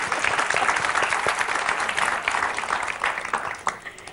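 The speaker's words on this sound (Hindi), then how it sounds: "अभी एक बार जोरदार तालियां वापस से" Loud, sustained applause from a crowd, dense clapping filling the whole stretch with a brief swell near the end.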